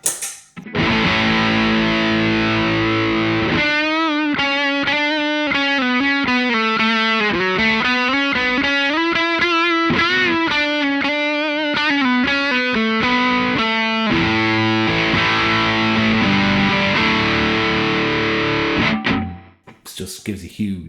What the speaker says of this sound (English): Just gives a huge distortion sound, nice lead tone.